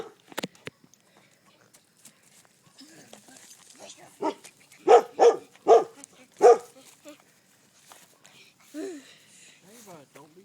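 Puppies yelp and bark in short bursts, with a cluster of loud, close yips in the middle and scattered smaller cries around them, amid voices talking.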